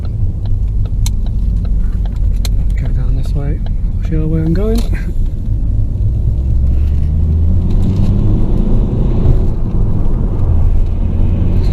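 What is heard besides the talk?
Ford Focus Mk3 2 litre petrol engine accelerating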